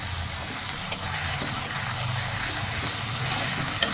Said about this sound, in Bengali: ততক্ষণে মাছটা ভাজা হোক